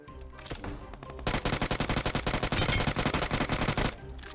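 Light machine gun fire in a video game: after a short opening burst, a long continuous stream of loud, rapid automatic shots runs for several seconds, then tapers off into a few scattered bursts.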